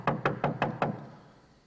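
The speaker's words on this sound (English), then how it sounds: "Peter knocked at the outer entrance" Five evenly spaced knocks on a door, close and distinct, followed by a quiet fading tail.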